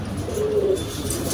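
A pigeon coos softly in a low, steady murmur close by, one short call among other pet pigeons kept in a loft, with no voices.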